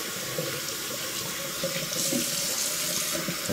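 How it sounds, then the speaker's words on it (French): Hot tap water runs steadily into a sink to rinse soap from a shaving brush, a constant close splashing stream with no talking. "J'aime bien rincer mon blaireau à l'eau chaude, premièrement, pour enlever tout l'excédent de savon."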